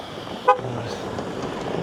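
A single short toot from the horn of a passing car on a village road in Russia, sharp and brief against a steady background of road noise.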